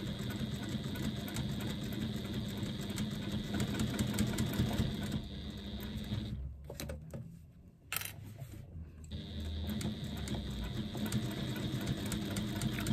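A sewing machine stitches a fabric strap in a fast, steady mechanical whir nearby. It pauses briefly in the middle, then runs on continuously with no voices.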